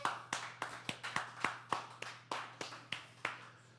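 A small audience at a book fair claps for an author, sparse and distinct, with about a dozen separate sharp claps evenly spaced over a faint steady hum.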